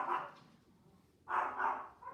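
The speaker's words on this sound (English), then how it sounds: "So I'm just waiting for them to stop barking." Pet dogs bark indoors in two bursts, a short close bark and then a louder run of barks after a brief pause, with no talking.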